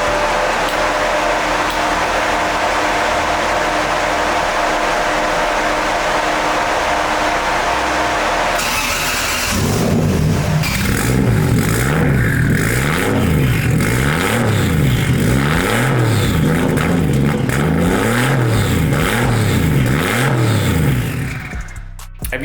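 A 1JZ-powered drift car's engine cranks with a loud, noisy starter whir, then catches and settles into a rough idle broken by repeated rising and falling revs, close and loud throughout.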